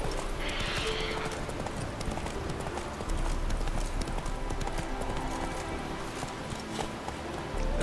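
Steady clip-clopping hooves of a horse in The Witcher 3 on PS4, a continuous rhythmic gait close by over low ambient noise, no speech.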